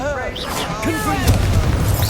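Confringo fire-blast spell detonating in Hogwarts Legacy, a booming magical explosion during combat, with a broad burst of noise over layered game effects and shouted voices.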